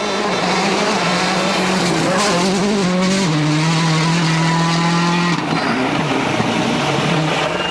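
Rally car at full throttle on a stage of the 2007 Rally Deutschland, its engine climbing and dropping through gear changes, with tire squeal and a loud close pass.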